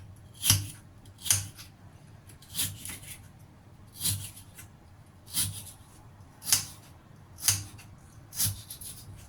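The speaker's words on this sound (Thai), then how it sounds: "หั่นบาง ๆทีนี้เดี๋ยวเราหั่นเสร็จแล้วจะเอาไปสับจ้ะ" A knife slices thinly through lotus root, about ten crisp cuts against a board in a steady, unhurried rhythm, close up.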